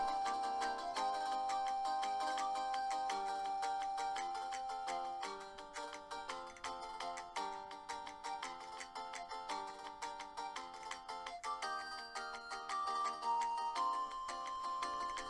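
Game soundtrack from The Legend of Zelda with about three instruments playing together, a steady bright melodic tune with repeated plucked or chime-like notes at an even, moderate loudness throughout, no voices.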